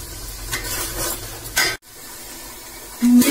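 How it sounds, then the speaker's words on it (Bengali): Onion, garlic and ginger paste fries in a pan for mutton curry, a steady close sizzle with stirring scrapes, a brief drop near the middle and a louder burst at the end; no talking. "এবার এটাকে আমি একটুখানি ভাজি"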